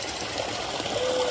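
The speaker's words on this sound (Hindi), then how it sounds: "और पानी बहुत स्लो स्लो स्लो स्लो है, ज्यादा पानी भी नहीं है देखो" Slow, gentle flow of cold stream water, heard as a steady, close trickle with a broadband wash throughout and no talk.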